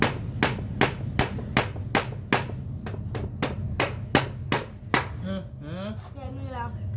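Repeated hammer blows pounding something in, about fourteen sharp evenly spaced strikes over a low background rumble, followed by a voice speaking at the end.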